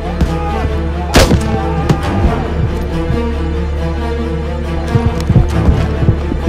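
Battlefield gunfire and blasts from a fight at Rezang La against Chinese troops, with a loud sharp crack near the start and scattered thuds and shots over a steady rumbling din, under a busy layered war soundscape.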